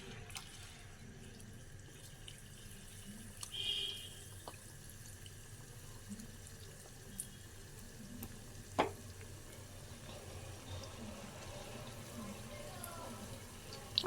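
Paneer pieces fry in a pan over low to medium heat, giving a faint, continuous soft sizzle with a few small clicks and shuffles mixed in.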